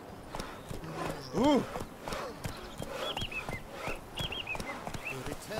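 Hooves of Roach, a horse in The Witcher 3 video game, clip-clop in a steady rhythm throughout, heard beneath a brief vocal exclamation and game sounds.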